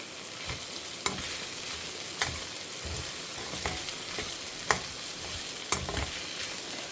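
Okra sautéing in a pan at home, a steady low sizzle broken by scattered clinks and scrapes of stirring, about six sharp utensil taps spaced irregularly, no talking.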